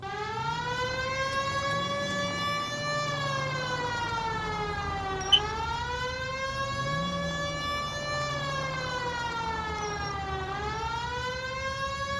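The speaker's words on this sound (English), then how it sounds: "Hit the siren" Police car siren in the L.A. Noire video game, a loud continuous wail rising and falling in long slow sweeps over a low engine rumble, with one brief click partway through.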